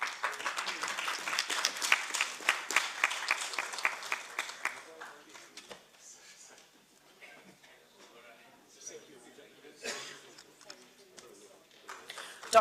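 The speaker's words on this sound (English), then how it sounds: "A round of applause, please." An audience at an urban housing session claps for a panel, dense applause at first that thins to scattered claps, with a voice speaking over it.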